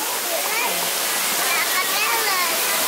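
Srambang waterfall at a Ngawi nature park rushes with a dense, steady roar of falling water that fills the scene close by, while people talk under it.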